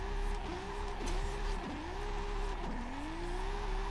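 Toyota Supra Mark IV with a 2JZ engine in Forza Horizon 5, a loud continuous engine tone rising and dipping through several gear changes, with tire squeal mixed in.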